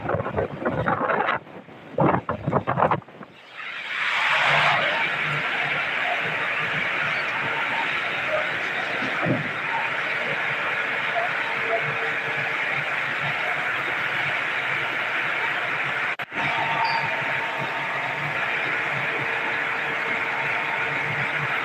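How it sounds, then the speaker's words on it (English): Very strong typhoon wind roaring steadily under Tropical Cyclone Wind Signal number 5, recorded outdoors at the foot of a building; after a few seconds of broken gusts and buffeting it becomes a loud, continuous rushing blast that keeps pounding the microphone. "Kung ating titingnan ay sobrang lakas na po ng hangin."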